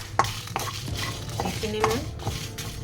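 Cumin, coriander seeds and dried red chillies dry-roast in a pan for an Indian olive pickle, stirred with sharp scraping clicks and a light rattle of seeds, close and unaccompanied by speech.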